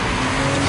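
Nissan GT-R cars street racing through a neighborhood at night, a dense, loud engine roar filling a brief burst with hints of tire noise and no voices.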